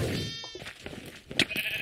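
Sheep bleats from the Minecraft video game, a short wavering cry near the start and a sharper call later, mixed in with game sounds.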